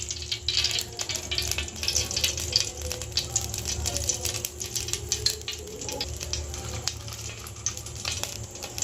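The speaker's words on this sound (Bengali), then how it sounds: "কড়াইয়ের মধ্যে আমি ঘি দিয়ে দিচ্ছি" Ghee sizzling in a hot kadai on a gas stove, a steady crackling hiss with dense tiny pops throughout, close and fairly loud, with no voices.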